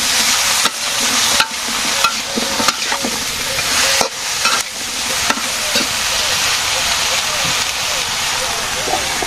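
Salted vegetables frying in a pan give a loud, close, continuous sizzle, with regular clacks and scrapes of stirring cutting through it and no voice over the top.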